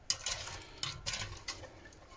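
Mirabelle plum jam with sugar stirred in a pot, a few soft scraping and clinking strokes of a spoon against the pot, close and quiet with no talk.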